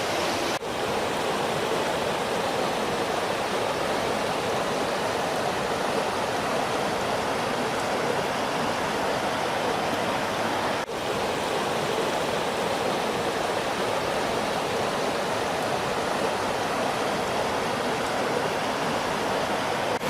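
Gold-bearing gravel is panned in water in a slot canyon, a loud, steady rush and wash of water that runs without a break.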